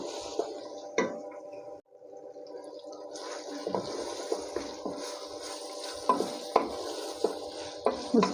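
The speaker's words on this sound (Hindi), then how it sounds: "बस थोड़ी सी कसर रह गई है हमारा कीमा भुनने में, इसे अच्छे से भुन जाए" Minced meat (keema) fries in a pan at home, with a soft sizzle under repeated scraping and tapping of a spoon or spatula against the metal. The stirring strikes come clearly and irregularly, and there is no talking.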